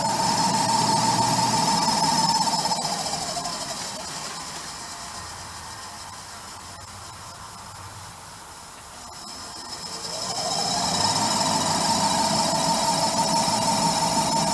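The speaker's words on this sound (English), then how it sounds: "the exhaust fan. The motor is kind of noisy." Exhaust fan motor of a used Harmon pellet stove running noisily with a steady whirring hiss. The motor fades down in the middle and then spins back up.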